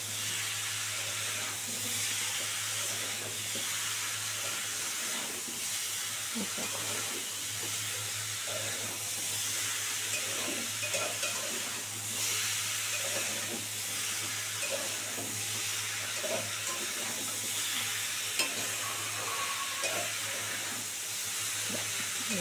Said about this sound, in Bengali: এবার দিয়ে একটু ভালো করে নাড়াচাড়া করে নিই।